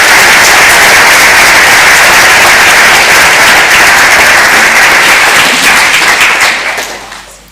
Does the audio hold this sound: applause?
yes